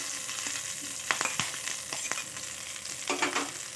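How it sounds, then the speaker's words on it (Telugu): Green chilies fry in melted ghee, a steady hissing sizzle broken by a few sharp spatters and stirring clicks, close and even throughout the short stretch. "ఫస్ట్ వచ్చేసి పచ్చిమిర్చిని వేస్తున్నాను"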